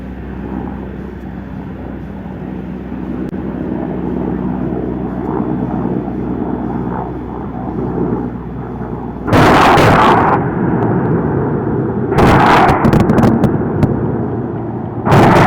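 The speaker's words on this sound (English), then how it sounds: "Watch now as the helicopter carries out a low-level attack to literally rain death and destruction on the target." Military firepower demonstration as an attack helicopter makes a low-level run: a steady rumbling drone gives way to two loud, sharp bursts of explosions or gunfire, each a second or so long, with another hit at the very end.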